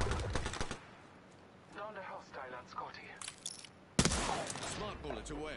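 Smart-bullet gunfire in Apex Legends: a quick cluster of sharp shots at the start, then quieter game sounds under a talking voice, and another loud burst of shots near the end.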